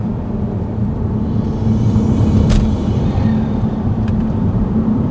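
A 2017 BMW F30 330i running with a BMS B48 intake drones with a steady, loud low engine rumble inside the cabin, swelling slightly midway, with a faint click now and then.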